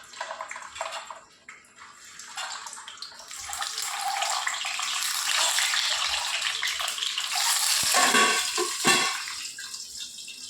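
Eggs dropped into hot oil in a pan over medium heat sizzle and crackle steadily, the frying noise building louder and staying close, with no talking.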